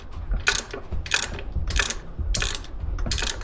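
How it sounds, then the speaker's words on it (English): A hand ratchet tightens a 9/16 bolt on a Harley-Davidson air cleaner, giving five sharp rhythmic bursts of clicking close up, with no talk. "So we're gonna get in here with our ratchet."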